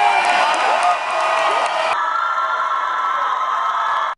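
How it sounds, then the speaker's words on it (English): A crowd cheering and whooping at a Senate campaign rally in Lubbock, a loud sustained roar of voices that shifts to a steadier hum partway through, then cuts off abruptly. "Lubbock crowds amped up for Beto O'Rourke and Ted Cruz"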